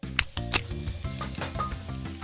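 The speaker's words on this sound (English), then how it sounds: "Plop the veggies into a pan and stir fry." Vegetables stir-frying in a pan for an animated kids' cooking scene, a steady bright sizzle with a few sharp hits near the start under a sustained musical bed.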